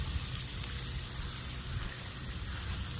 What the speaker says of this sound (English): I'm trying to spray it down to the roots.